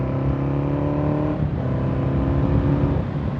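A motorcycle on US 421 "The Snake" between Bristol, Tennessee and Shady Valley, on a winding, wet road: a steady engine drone close by that dips midway as it gears down, then holds a droning tone.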